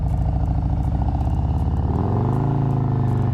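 A Harley-Davidson Street Glide ST touring motorcycle rumbles loudly and close, its V-twin engine settling from a chugging idle into a deeper, steadier throb.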